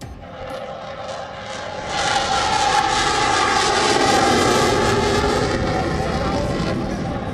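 Indian Air Force fighter jets, including MiG-21s and Jaguar strike aircraft, fly past in formation over Hindon Air Base, a loud continuous jet roar that swells after the first two seconds and holds steady.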